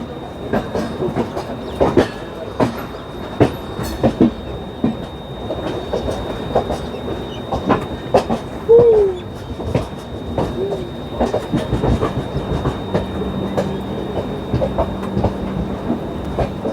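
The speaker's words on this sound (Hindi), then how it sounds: "ये देखिए बढ़िया लूप से जो है आ रही है मेन लाइन पे हमारी ट्रेन" Jharkhand Sampark Kranti train crossing from a loop line onto the main line, its wheels beating a steady clickety-clack over the rail joints, with a brief wheel squeal partway through and a low rumble underneath.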